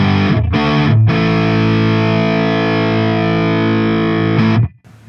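A crunchy, overdriven Telecaster-style electric guitar on the middle pickup position: a couple of quick strummed chords, then one long sustained chord ringing out loud before cutting off.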